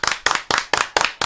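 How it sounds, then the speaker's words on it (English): Audience clapping for a comedian guest on a podcast, a few hands beating in a steady rhythm of sharp, close claps about four per second. "Give a big round of applause"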